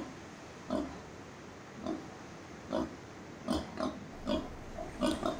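Pigs on Tuvalu island, raised for feasts, grunt and oink in repeated short bursts over steady outdoor background noise, fairly faint and at moderate distance.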